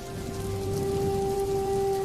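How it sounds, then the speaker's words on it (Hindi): Heavy rain falls in a steady, dense, close wash of patter that continues without a break, with a faint tonal hum underneath. "तेज बारिश शुरू हो गई।"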